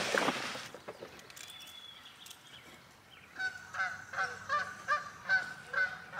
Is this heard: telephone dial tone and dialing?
no